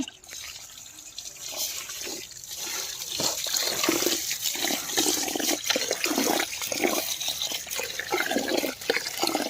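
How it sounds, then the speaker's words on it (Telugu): Water pouring and splashing as basmati rice is rinsed and drained in a home kitchen, a steady running gush with drips, close and fairly loud, without speech. "బియ్యం కడుక్కున్న తర్వాత ఒకసారి ఇట్లా నీళ్ళు వంపుకోవాలి"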